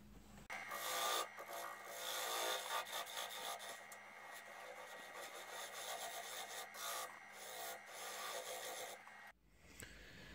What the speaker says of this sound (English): I'll just go to a coarse sandpaper and just sand it all up